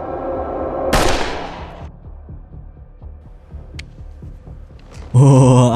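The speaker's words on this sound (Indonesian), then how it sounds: "akhirnya Skersen ditembak mati oleh seorang pembunuh bayaran" A hired sniper's gunshot in the thriller film The International, one sharp loud crack followed by a decaying echo, then soft rhythmic thuds and a sudden loud tonal blare at the end.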